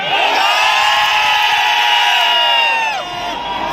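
A large concert crowd at Salman Khan's Dabangg Reloaded tour show in Riyadh roars and cheers loudly and steadily, with shrill whoops and shouts rising over a dense wall of voices that dips slightly near the end.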